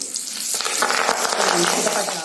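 Betel leaves sizzle and spatter steadily in hot ghee as they fry, a dense, close crackle that holds at an even loudness for the whole stretch.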